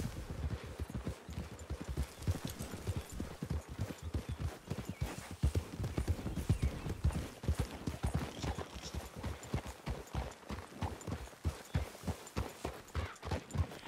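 Horses walking in the video game Red Dead Redemption 2, a steady clip-clop of hooves, several animals stepping in a loose overlapping rhythm, close and moderately loud, no voices.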